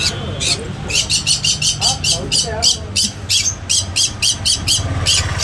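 Lovebirds in a pet shop chirp in rapid, repeated high squeaks, a steady chattering flock, while a person talks underneath.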